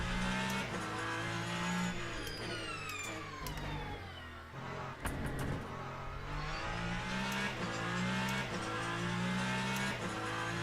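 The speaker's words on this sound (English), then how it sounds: "Love that sound when you hit the brakes." A Ferrari hypercar in Le Mans Ultimate racing, its engine droning and shifting pitch as the tires squeal under hard braking, with fast passing whooshes and a loud, continuous roar.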